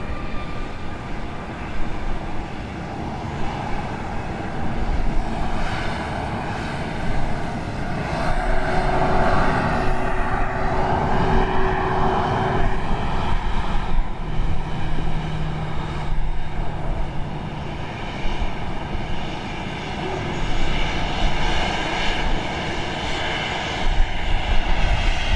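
A Boeing 737-700, flight 2548 to Kansas City, runs its engines at Dallas Love Field at night. The engine drone and whine go on for a long stretch and swell and ease at a moderate distance, with no speech.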